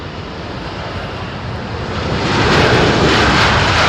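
A passenger airplane arriving at London Heathrow Airport roars steadily with a broad engine rumble that swells louder over the last couple of seconds as it passes close, with no voices.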